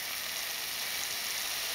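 Chicken broth poured into a frying pan with chicken and tomato concentrate, giving a steady, even sizzle and hiss at moderate level with no talking.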